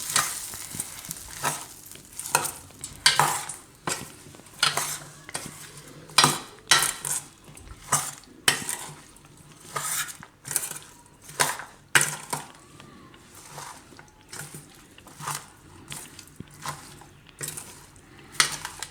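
A metal spoon stirs and mixes a Gujarati onion pickle in a bowl, making repeated sharp clinks and scraping knocks against the dish, moderately close and fairly quiet, with no talking.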